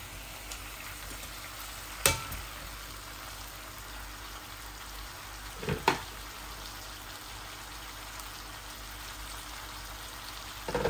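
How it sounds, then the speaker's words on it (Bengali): Koi fish poured into a pan of frying potatoes, giving a steady soft sizzle with a couple of sharp splashy bursts as pieces hit the hot oil, no voices. "এই যে আমার আলুগুলা ভাজা ভাজা হয়ে গেছে, এখন আমি মাছগুলা ঢেলে দিচ্ছি।"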